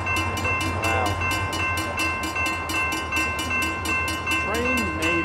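A Conrail Shared Assets freight train, SA31 on the Southern Secondary line, rolls past close by with loud, steady, rhythmic wheel clatter over rail joints and sustained horn tones.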